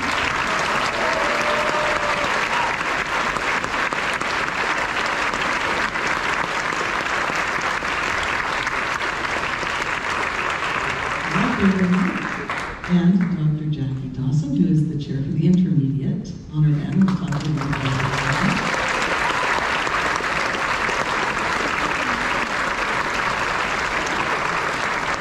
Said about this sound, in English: Big round of applause for Mr. Ferguson.